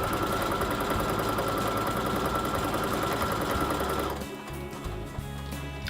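Sewing machine chain piecing quilt squares, running in a loud continuous rapid whir for about four seconds, then stopping and leaving quieter mechanical clicks and handling.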